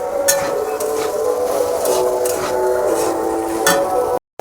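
Potatoes and freshly added carrots fry in hot oil for a singara filling, making a loud, continuous sizzle with periodic scraping stirs and clinks of a spoon against the pan; no talking.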